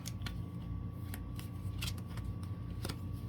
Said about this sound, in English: Then I gotta shuffle the deck a little bit